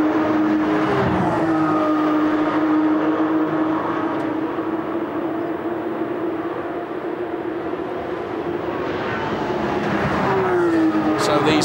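Porsche Carrera Cup race cars in 2012 on the Nürburgring Nordschleife, running flat out: a steady, loud engine drone with shifting pitch, as if the cars pass nearby.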